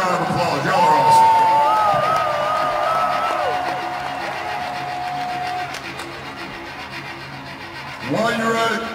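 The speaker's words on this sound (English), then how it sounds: "Give yourself a giant round of applause." Concert crowd cheering in a Baltimore arena during a show: a dense, loud wash of crowd noise runs the whole way, with sustained tones ringing above it and a fresh swell near the end.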